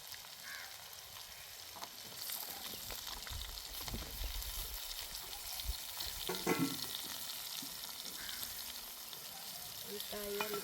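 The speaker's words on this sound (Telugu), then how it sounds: "ఇప్పుడు ముందుగా తరిగి పెట్టుకున్న వంకాయ ముక్కలు కానీ నూనెలో వేస్తాను." Brinjal pieces frying in oil in a village-style crab and brinjal curry, with a soft, steady sizzle and a few stirring clatters and scrapes, fairly quiet throughout.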